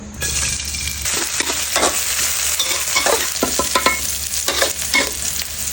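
Chili and garlic stir-fried in hot oil in a pan for Thai holy basil stir-fry: a steady, close sizzle with repeated scraping and stirring strokes, continuous throughout and with no voices.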